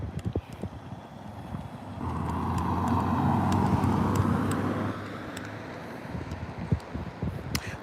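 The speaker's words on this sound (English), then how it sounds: "waiting for some cars to pass by." A car passes by on a road during an outdoor walk, its swelling rush building and fading over a few seconds amid footsteps and light outdoor noise.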